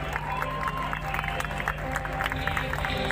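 Audience at the IBFA 2023 Bhojpuri awards night in Dubai applauding two honorees, dense continuous clapping filling the whole stretch with a low steady hum underneath and faint voices.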